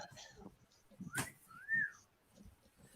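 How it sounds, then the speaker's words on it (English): Someone whistles a short rising-and-falling note, moderately loud and close, with low muffled talk and background noise around it. "Someone whistle."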